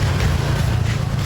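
Strong wind buffets the microphone outdoors, a loud continuous roaring rush with no voices.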